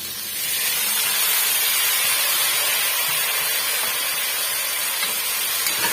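Brinjal and potatoes sautéing in a pan, a steady loud hiss of frying that rises after the first half second and holds evenly, with no talk.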